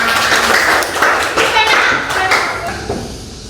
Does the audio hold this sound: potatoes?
no